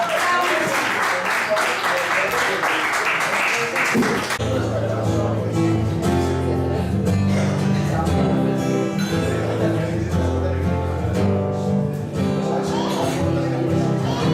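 Audience at a live music performance in a Basque tavern breaking into applause for a singer, a dense burst of clapping for about four seconds before music starts and carries on beneath.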